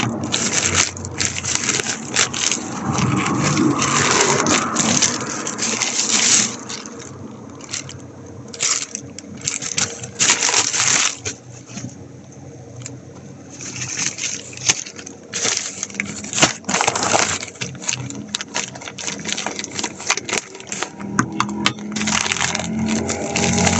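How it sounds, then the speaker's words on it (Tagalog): Scissors cut open a delivered parcel, with rustling, scraping packaging and snipping textures coming in bursts over about twenty seconds, close and fairly loud, with no talking. "Ito ang ating mahiwagang gunting. Gupitin na natin."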